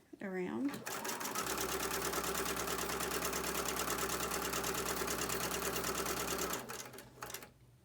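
Sewing machine running steadily at close range while stitching a seam in a quilt block, a fast, continuous whirring hum for about six seconds that starts and stops abruptly, with a brief voice at the start.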